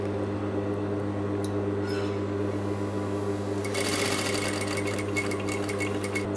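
A sewing machine runs steadily up close while stitching a shaped unlined pocket. A constant motor hum carries through, and a quicker, brighter rattle of the needle joins in over the second half. No one speaks.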